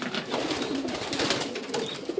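Racing homer pigeons in a loft give soft, close coos that overlap in a steady murmur against the quiet flutter of the birds.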